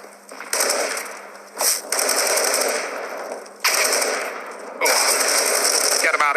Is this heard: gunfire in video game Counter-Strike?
yes